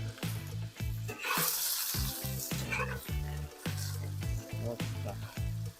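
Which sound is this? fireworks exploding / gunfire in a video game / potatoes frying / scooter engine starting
potatoes frying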